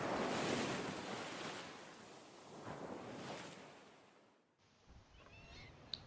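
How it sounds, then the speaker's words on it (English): Rough sea crashes onto rocky Shetland shores in a broad, continuous roar of surf with wind, swelling and then easing off near the end. "The sea crashes wildly onto these rocks"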